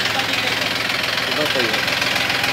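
A used Mahindra 265 tractor in good condition idling steadily with a continuous mid-pitched engine rumble, loud and close, while people talk over it.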